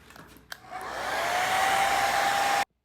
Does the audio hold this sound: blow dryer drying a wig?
yes